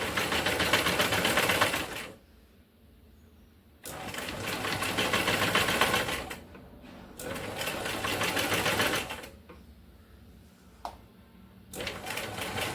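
A sewing machine stitches the neck of a blouse in loud, rapid bursts, running for a couple of seconds at a time and stopping between runs.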